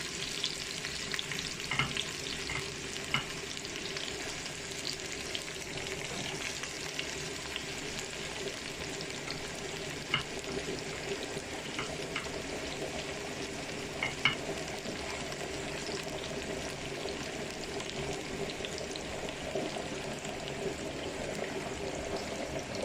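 Onion sautéing in a pan for a shrimp dish, a steady close sizzle with occasional stirring scrapes and light crackles running throughout, no voices.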